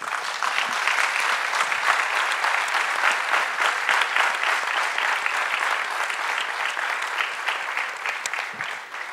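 An audience at a talk on narrating Latin America applauds: dense, sustained clapping from a sizable crowd, fairly even in loudness for the whole stretch and slowly thinning toward the end.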